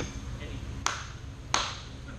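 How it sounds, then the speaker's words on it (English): Two sharp hand claps made as a distraction during a basic obedience dog training class, spaced under a second apart over a steady room background. "Curtis, clap your hands a little bit and make a little distraction."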